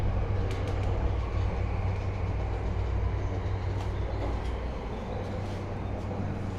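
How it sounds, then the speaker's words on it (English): A JR Yamanote Line train rolls into Takanawa Gateway station in Tokyo, heard from inside as a steady loud low rumble with a constant hum and faint clicks of the wheels, no talking. "As we pull into the station right now"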